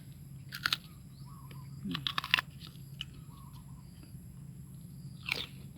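Crisp, juicy red jujube fruit bitten and chewed up close, with a few sharp crunches followed by quieter chewing and faint bird chirps in the background.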